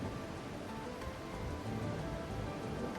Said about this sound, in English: Yeah! Rain!